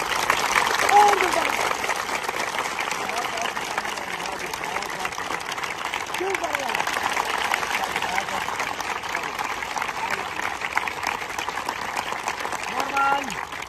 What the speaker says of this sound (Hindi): भाजपा को देखकर दिल से ताली बजाएं।